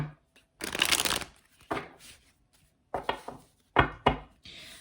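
Tarot cards are shuffled in several short, close bursts of papery riffling and tapping, separated by brief quiet pauses, fairly soft with no talking.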